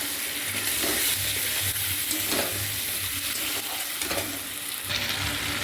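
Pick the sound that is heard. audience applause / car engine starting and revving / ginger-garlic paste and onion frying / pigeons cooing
ginger-garlic paste and onion frying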